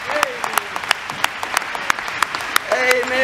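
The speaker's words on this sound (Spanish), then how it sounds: "Y la congregación aplaude." A church congregation claps during a worship service in sparse, separate claps at a fairly even pace, with someone speaking over them in places and a voice rising near the end.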